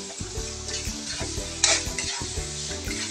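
Crab pieces and melted tomatoes sizzle in a hot pan as they are stirred, a steady close frying hiss with rhythmic scrapes of a utensil against the pan and one brief sharper clink.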